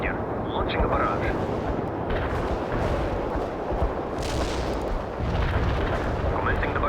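An artillery barrage in the World in Conflict video game rumbles as a dense, continuous roar of booms and blasts, loud and unbroken, with radio-style voices speaking over it.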